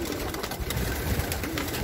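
Pigeons cooing inside a loft, several birds making soft throaty coos that overlap in a close, busy chorus.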